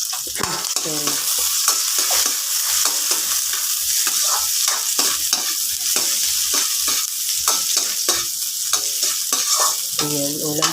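Sardines and sweet potato leaves sauté in oil, with a loud continuous sizzle and rhythmic scraping of a spatula stirring against the pan, close up throughout.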